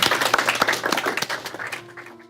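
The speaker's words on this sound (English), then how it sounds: "Let me get a round of applause for Professor Pommersheim." A brief burst of audience applause for Professor Pommersheim, many hands clapping briskly before quickly thinning out and fading within a couple of seconds.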